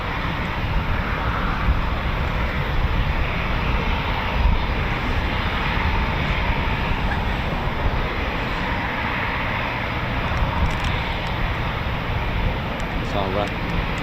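A Eurofighter Typhoon FGR4 jet at RAF Coningsby, the QRA station, gives a steady, loud engine roar and whine that persists throughout without letup, with a voice talking over it.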